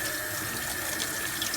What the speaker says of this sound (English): We're going to turn on the hot water.